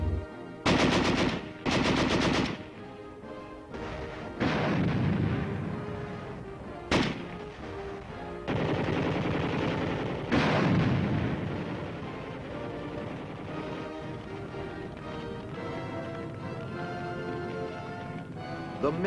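Gunfire from rehabilitated former scrap heap guns used by the 8th Army in Korea, loud bursts of machine-gun and rifle fire alternating with sustained rattling volleys and heavy booms across the battlefield.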